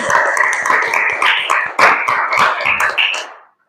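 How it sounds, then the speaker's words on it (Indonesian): Classroom applause for schoolchildren at an Indonesian junior high school, a dense burst of many hands clapping for about three seconds before stopping abruptly. "tepuk tangan dulu dong buat anak-anak gitu."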